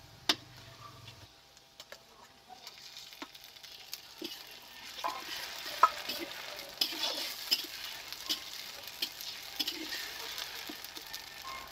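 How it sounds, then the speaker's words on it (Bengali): Ground spice paste with chopped tomato, turmeric and salt fries in mustard oil in a kadai for prawn malai curry. A steady sizzle carries scraping stirs and clicks, growing busier and louder after the first few seconds. "এখন মশলাটাকে ভালো করে কষিয়ে নেব।"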